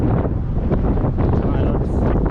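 Steady wind buffets the microphone while walking outdoors through Barcelona, a continuous low roar filling the whole stretch with no pauses.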